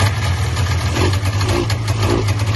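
A Polaris Indy snowmobile engine runs steadily close by at a low, throbbing idle with a few slight swells, continuous for the whole short stretch.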